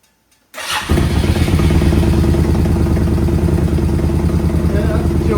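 A small engine, likely a motorcycle, sputters to life after a brief silence and then settles into a loud, steady, close idle that climbs as it is revved, with a clattering mechanical rhythm throughout.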